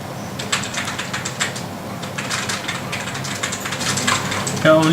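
Rapid clicking of keys on a BlackBerry Q5 smartphone's physical keyboard, a fast irregular patter of close taps continuing throughout, ending with a brief higher sound.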